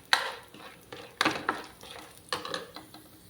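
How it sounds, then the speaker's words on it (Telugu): Chana dal being fried in oil in a pan for munagaku karam podi, heard as a series of scraping, clinking stirring strokes against the pan over a low sizzle, close by, with no talking. "ఆయిల్ వేసుకొని శనగపప్పు వేయించేసుకోవాలి."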